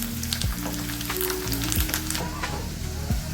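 Onions and coriander sizzle steadily in a pan, a close, continuous frying hiss with a few clunks from stirring and scraping.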